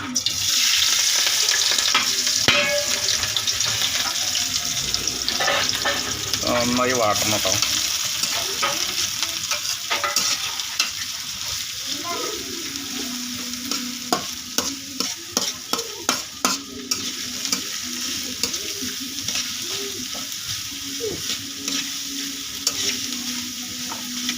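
Bread with onion, curry leaves, green chili and egg fries loudly in a pan under a continuous sizzle. Stirring scrapes run throughout, and midway a run of rapid, evenly spaced taps of the utensil against the pan breaks in.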